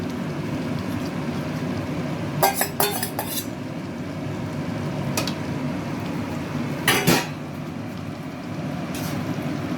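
A metal spoon stirs tomatoes and potatoes in a pan for chana masala, with a few sharp scrapes and clinks against the pan over a steady background hiss.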